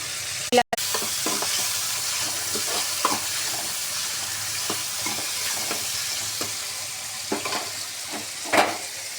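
Tomatoes fry in a generous amount of oil for a bitter gourd curry, giving a steady background sizzle. A spoon scrapes and taps the pan at irregular moments.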